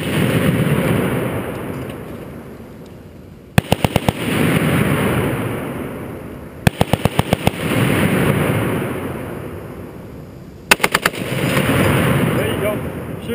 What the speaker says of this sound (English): give it out of 5 to 7 round burst